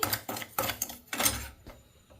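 Rice semolina dry-fried in a pan, heard as a series of dry scraping and clinking strokes as a utensil stirs the grains against the pan, about five bursts with short gaps, near and fairly quiet.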